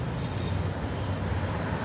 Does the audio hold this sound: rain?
no